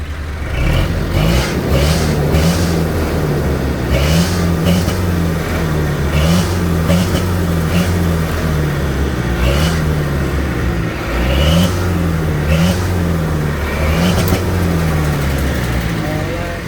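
A Hino 175 truck engine after an ECU remap, running loud and close with a rough, shaking idle and repeated quick revs rising and falling in pulses, while people talk over it.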